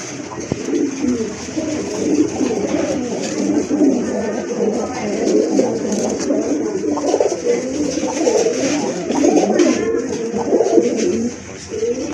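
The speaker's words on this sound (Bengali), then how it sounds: "এখানে কিন্তু আরেক জোড়া রাজগোল্লা কবুতর আছে হোয়াইট অ্যান্ড ব্ল্যাক কালার" A pair of white-and-black Rajgolla pigeons coo steadily and close by at a pigeon sale, their soft, throaty calls overlapping in a dense, continuous murmur with no pauses.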